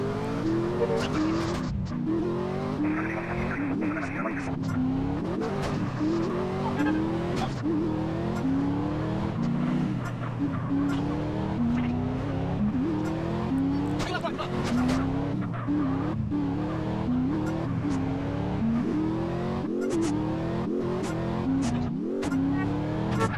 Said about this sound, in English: Porsche, Marera Carrera.